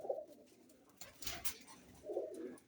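Soft, low cooing of a black female pigeon close by in a pigeon loft, one coo at the start and another near the end, with quiet rustling between.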